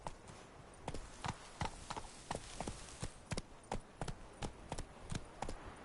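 Roach, the horse in a Witcher video game, gallops with a steady, rhythmic clip-clop of hooves, close and fairly loud, the beats repeating evenly without pause.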